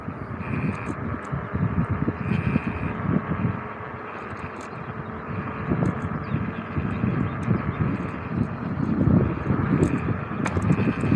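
Ultron X3 electric scooter ridden in gear 2, a steady loud hum of motor and rushing wind noise across the microphone throughout, with faint higher whine above it.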